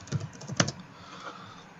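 A few quick keystrokes tap on a computer keyboard, faint and close, in two short bursts followed by quiet.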